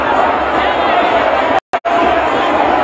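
A massive crowd of supporters fills a political rally in Monrovia with loud, continuous roaring and chatter, cut by a brief dropout of near-silence partway through before the din resumes.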